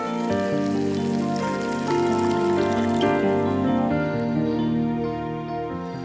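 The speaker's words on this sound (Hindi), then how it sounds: "थोड़ा सा डालूंगी पानी।" Water is poured into a cooking pot of turnip, carrot and beetroot, a loud, continuous splashing stream lasting several seconds with a shifting, ringing tone.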